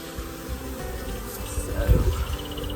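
Honeybees buzzing in an open hive box during a brood chamber check, a faint, steady hum with a louder swell near the end, under low background noise.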